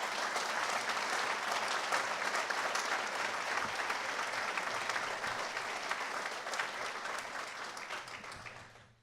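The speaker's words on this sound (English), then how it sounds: "Now, a round of applause for the" A lecture hall audience gives a sustained round of applause at an award presentation, dense and even for several seconds before thinning and fading out at the end, with no talk over it.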